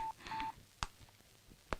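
Telephone keypad dialing tones, a few steady beeps followed by two sharp clicks or presses, near and fairly quiet, with no talk.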